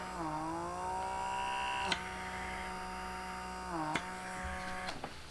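A handheld pore vacuum suction machine hums steadily up close, its tone dipping briefly a couple of times, with a few sharp clicks scattered through the drone and no talking.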